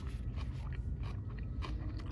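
Crunchy bites into a wrap filled with tomato cream, celery and spring onions, eaten outdoors at night: close, continuous crunching and chewing, fairly loud, with no talk.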